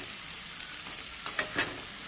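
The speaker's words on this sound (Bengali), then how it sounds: "এবার ভালো করে পেঁয়াজ আলু এগুলো একটু ভাজা হবে" Onions and potatoes fry in a pan, giving a faint, even hiss with a few soft utensil taps close by.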